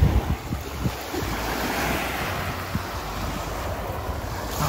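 Ocean surf washes steadily onto a beach with wind buffeting the microphone, a continuous rushing roar that stays fairly loud for the whole stretch with no voices.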